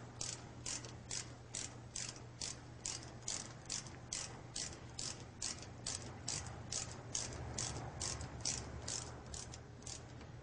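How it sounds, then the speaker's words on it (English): A ratchet wrench tightens the upper and lower brake housing bolts, giving a steady, evenly spaced run of sharp clicking strokes at close range with no voices. "Tighten the upper and lower housing bolts so they're secure."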